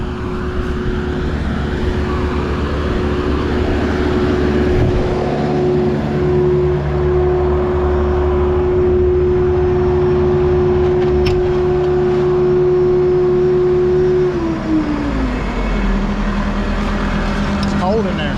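A diesel concrete truck pulls away from a pour site. Its engine drones loud and steady, then the pitch drops and shifts near the end as the truck moves off, and a voice talks over it.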